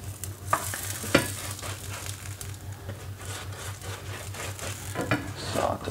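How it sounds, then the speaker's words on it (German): Melted butter is brushed over freshly baked Bosnian-style flatbread, giving a soft, continuous swishing and brushing close by with occasional light taps, steady and moderately quiet. "Ich es gleich schön mit Butter verpinseln"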